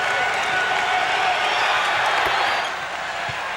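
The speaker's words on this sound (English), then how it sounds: "The crowd tells the story." Arena crowd at a 1989 NBA basketball game between the Detroit Pistons and Orlando Magic roars in a sustained, loud wash of cheering and applause, with a commentator talking over it.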